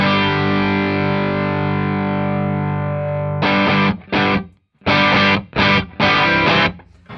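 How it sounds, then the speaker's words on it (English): Electric guitar through a Tube Screamer TS808 overdrive pedal rings out one long sustained, gritty chord, then a run of choppy, loud distorted strums in quick bursts with short breaks, no talking. "I just want to hear the Tube Screamer compared to the Klon"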